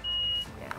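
A measuring device gives a single short, high electronic beep lasting under half a second, fairly clear against a quiet outdoor background.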